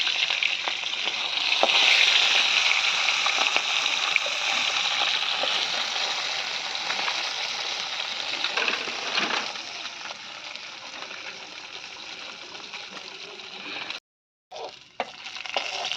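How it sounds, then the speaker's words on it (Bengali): Small bata fish fry in hot oil in a wok, a loud continuous sizzle with occasional scraping and stirring, briefly cutting out near the end. "তেলের মধ্যে জাস্ট ভেজে ছেঁকে নিচ্ছি বাটা মাছগুলো"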